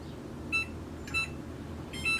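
Three short electronic beeps from an oven timer, spaced about half a second apart, clear over a low steady background hum in a home kitchen.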